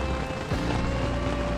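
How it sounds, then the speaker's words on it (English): Heavy rain pounding a leaking tent during a thunderstorm, a dense, steady wash of noise that stays constant and fairly loud throughout, with no voices. "It's pissing with rain."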